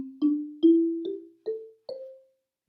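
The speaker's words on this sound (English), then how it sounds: "This one is actually a pentatonic xylophone." Pentatonic xylophone struck with a mallet, five notes climbing step by step in an even rhythm, each with a bright attack and short ring, clear and close with no talk.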